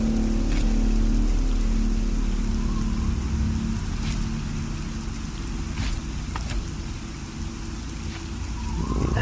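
Steady rain pours throughout a Fallout 3 wasteland scene, a dense even hiss with a low rumbling bed beneath and occasional sharper drops, no voices over it.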